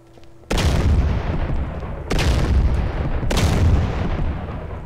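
Three loud, heavy explosions in the video game DayZ (MTA DayZ, Bayside), each a sudden booming blast with a long rumbling tail, spaced about a second and a half apart with no talking.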